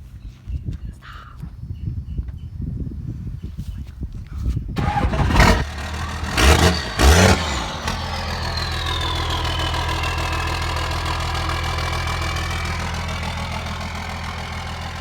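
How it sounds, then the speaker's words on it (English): A 12-valve diesel engine cold-starting in South Florida: a few seconds of quiet clatter, then loud cranking bursts as it catches and settles into a steady, rumbling idle close by. "we're going to do a video on the cold start of the 12 valve"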